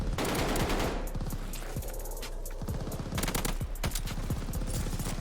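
Automatic fire from a KG M40 rifle in the video game Call of Duty: Vanguard, rapid bursts of sharp close shots with brief pauses between volleys, loud over a constant low game background.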